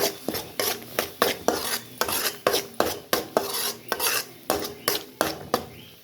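Onion sautéed with ground tomato in a pan for butter green chicken, with a spoon striking and scraping the pan in a regular rhythm of about a dozen close clinks over a soft sizzle, no voices.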